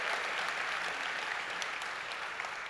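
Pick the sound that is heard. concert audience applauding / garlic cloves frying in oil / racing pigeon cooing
concert audience applauding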